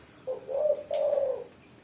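A single close spotted dove call: a soft, low coo in two short rising notes, clear against quiet background.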